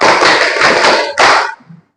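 Dense burst of hand clapping in a classroom clap routine, a continuous flurry of claps with a brief pause and a final short cluster before stopping, close and loud with no talk.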